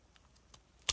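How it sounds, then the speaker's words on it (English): A single crisp, close snip as scissors cut the corner off a small handmade paper journal, sharp and brief at the very end after near silence. "Cut the corner off with my scissors."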